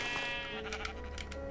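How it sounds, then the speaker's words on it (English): A gray sheep bleats in a farming video game, a sustained wavering cry over steady game background sound, fairly close and clear with no talk. "It's a gray sheep."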